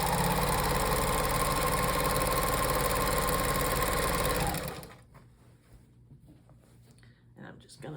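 A sewing machine stitches a quilt by the ribbon method, running with a loud, fast, even mechanical chatter up close for several seconds before stopping, leaving only quiet room sounds and soft handling noises.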